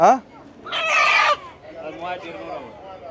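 A rooster crows loudly and close by in one burst, with other chickens clucking faintly around it.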